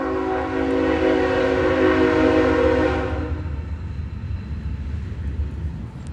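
A passing train sounds a long, loud, steady horn blast that cuts off after about three seconds, leaving the rumble of the rail cars rolling on nearby.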